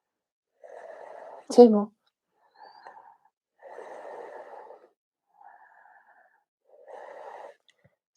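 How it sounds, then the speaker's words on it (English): Slow, deep Ujjayi yoga breaths in a quiet room, each a soft, throaty, ocean-like hiss lasting about a second, with a brief spoken instruction partway through. "Deep Ujjayi breaths."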